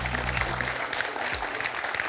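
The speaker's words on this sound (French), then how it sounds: "Est-ce qu'on peut applaudir Sophie et son cheesecake?" Studio audience applauding a contestant named Sophie and her cheesecake on a French television quiz show, a steady dense burst of clapping with low music underneath.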